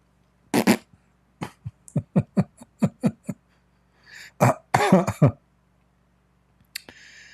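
A series of short, sharp fart-like bursts in quick succession, some stretched into brief sputtering blasts, close and fairly loud, separated by silences with a faint hum underneath.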